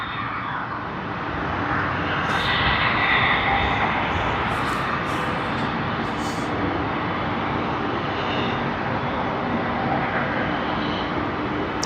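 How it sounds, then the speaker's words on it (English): A Qantas Airbus A380 makes its takeoff roll at Sydney Airport, a loud, sustained broadband jet roar that swells and holds steady, with faint higher hiss over the top. "Sydney to Singapore service on the Airbus A380 lining up. Should be a pretty good and fast takeoff roll"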